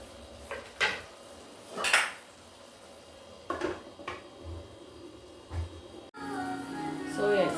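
Tawa pulao stirred in a pot with a utensil, giving a few distinct scraping clinks of metal against the pan at uneven intervals, moderately close, with faint background noise and some light rattling near the end.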